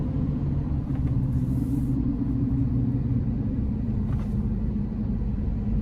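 A 2023 Mercedes Sprinter Luxe conversion van with a four-cylinder turbo engine drives along, heard from inside as a steady, loud low engine and road rumble with no talk.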